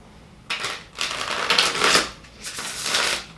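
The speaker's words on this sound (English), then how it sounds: "We'll do one more shuffle." Tarot cards being shuffled up close, three riffling bursts of papery flutter with brief pauses between them.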